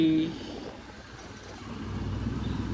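A car drives along a village road, a steady low engine and road rumble running throughout the short stretch with no talk over it.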